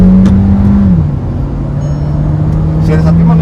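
A Volkswagen Virtus GT sedan with a DSG gearbox accelerates hard under full throttle, its engine a loud, steady drone heard from inside the cabin, dipping briefly in pitch before holding on.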